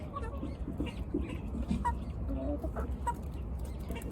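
Hens and a Colombian rooster cluck in a coop, with a steady stream of low, close calls over a rumbling background.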